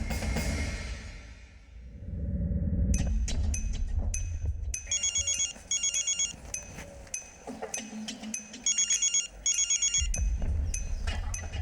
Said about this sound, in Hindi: किंजल की नानी का नंबर दीजिए, प्रिंसिपल साहब की तसल्ली के लिए उनसे एक बार बात कर लेते हैं।